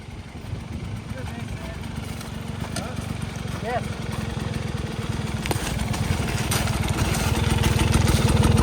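A Honda CR500 dirt bike with a sticking throttle runs steadily, its loud engine drone holding throughout and building toward the end, with voices faintly present on a steep trail.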